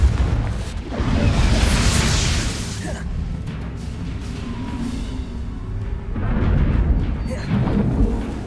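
In the Hogwarts Legacy video game, the Confringo fire-blast spell erupts in a loud, rumbling boom that swells and lingers, followed by a second crackling surge a few seconds later amid a continuous low roar.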